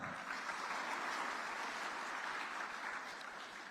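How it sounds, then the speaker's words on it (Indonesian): Sustained applause from students at a pesantren graduation ceremony for Quran memorisers, a dense steady clapping crowd filling the hall without break. "Tepuk tangan lagi, santri."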